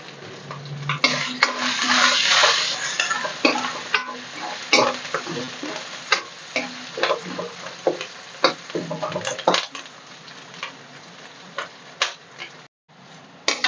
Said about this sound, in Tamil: நல்லா பூண்டெல்லாம் வதங்கியாச்சு.